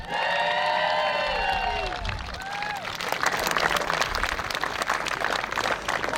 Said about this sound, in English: could you please give a big round of applause for the first Māori medal for Howick College